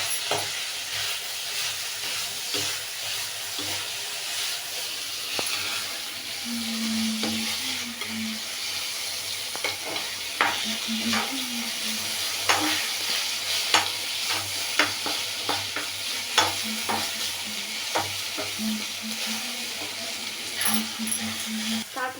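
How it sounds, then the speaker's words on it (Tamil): Ivy gourd stir-fried with curry leaves in a pan, a steady sizzle and hiss with frequent close scrapes and taps of a spatula against the metal, continuing at a moderate level without talk. "இப்போ நல்லா வதக்கிக்கலாம்"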